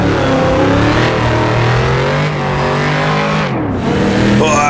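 A vintage race car engine with a 4-speed gearbox in Assetto Corsa revs loudly and continuously, its pitch climbing and dipping through gear changes, with a brief drop and rise near the end.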